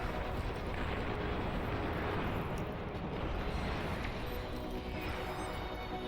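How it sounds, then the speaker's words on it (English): A big explosion in the strategy video game Beyond All Reason, part of an 8v8 match with nuclear destruction, sounds as a dense sustained roar and rumble of blasts and battle noise, loud and continuous. "Looks like some big explosion happened here."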